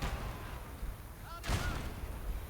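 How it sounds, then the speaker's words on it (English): A field gun fires in Call to Arms: Gates of Hell, a single heavy boom with a rumbling tail breaking into a quieter battlefield backdrop. "That's a field gun."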